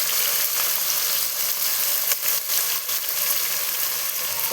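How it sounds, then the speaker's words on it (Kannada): Sliced onions frying in hot oil for a menthe bath, a steady dense sizzle throughout with occasional stirring scrapes, close and continuous with no talking. "ಈಗ ನಾವು ಸ್ವಲ್ಪ ಈರುಳ್ಳಿನ ಹಾಕೋತಿದ್ದೀವಿ. ಈಗ ಅದನ್ನ ಎಣ್ಣೆಯಲ್ಲಿ ಬಾಡಿಸ್ಬೇಕು"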